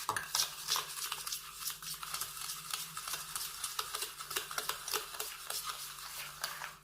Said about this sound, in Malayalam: ഇനി ഇതിനെ നന്നായി ഒന്ന് ഒരു സ്പൂണ് വെച്ച് നമുക്കൊന്ന് ബീറ്റ് ചെയ്തെടുക്കാം.